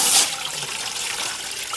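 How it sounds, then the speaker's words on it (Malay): Water is poured into a pot for a steamer while cooking ikan rebus lengat, a short splashing burst at the start that settles into a steady trickling wash, close and alone with no talk. "Masukkan air."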